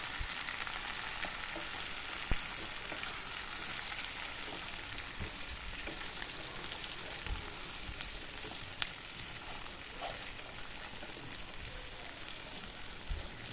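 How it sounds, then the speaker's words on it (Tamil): Capsicum and potatoes frying in oil for a spring onion poriyal, a steady, even hiss of sizzling throughout with occasional faint stirring taps, moderately quiet and with no speech. "இப்போ நம்ம அரிஞ்சு வச்சுருக்க கேப்சிகம் ஆட் பண்ணிக்கலாம்."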